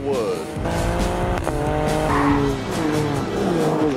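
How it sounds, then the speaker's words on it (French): BMW with a V6 biturbo engine, aluminium body and carbon-fibre propshaft, revving hard with rising and falling engine harmonics and a tire squeal, loud and close throughout, no speech over it. "Le V6 biturbo qui se trouve sous ce capot, c'est une merveille."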